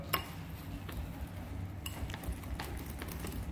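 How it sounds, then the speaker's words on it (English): A utensil stirs microwave scrambled eggs in a dish, giving a few faint, scattered clinks against the bowl over a low background hum. "So now when you stir these up"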